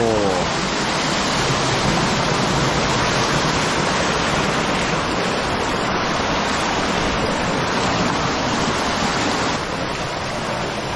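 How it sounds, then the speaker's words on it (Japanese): A loud, steady roar of a waterfall in a mountain stream fills the air continuously, broadband and close, with no clear voices over it. "滝っぽいね。"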